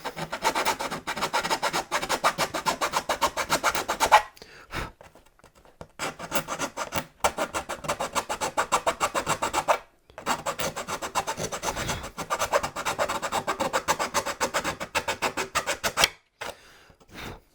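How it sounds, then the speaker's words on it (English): A hand file rasps steadily at the base of a servo exit hole in a model glider wing, with rapid scraping strokes in three long bursts separated by short pauses. "all I'm doing here is filing away the material at the base of the exit hole, because that's where that binding happens"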